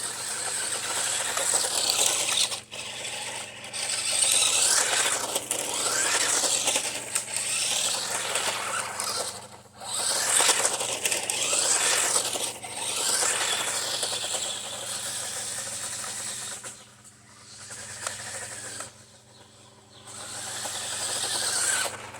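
A 1992 Tyco Fast Traxx toy vehicle's motor whirs loudly in repeated surges of rising and falling pitch, with brief pauses, gradually winding down.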